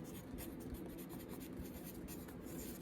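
Handwritten notes being jotted down at close range, a quiet, scratchy stroke-by-stroke scribbling with rapid irregular bursts and no voice over it.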